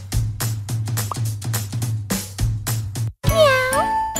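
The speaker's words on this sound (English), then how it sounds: "Meow!" A cartoon cat meows in a pet salon video game, with a string of short clicky jingles before a drawn-out, wavering meow near the end, loud and clear.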